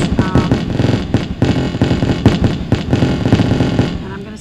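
Rapid crackling bursts and pops of synthetic fireworks from the iFireworks Lite tablet app play continuously and loudly, one explosion tumbling into the next.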